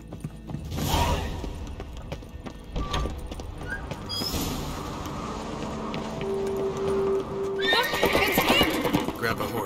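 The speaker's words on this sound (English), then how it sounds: "Grab a horse, we'll chase him down." A horse neighing and galloping in The Witcher 3 on Skellige, with a loud whinny near the start, then rhythmic hoofbeats under game music, and characters talking throughout.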